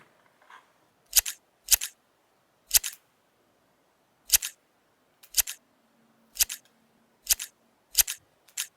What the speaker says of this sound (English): I'm going to start trimming my brows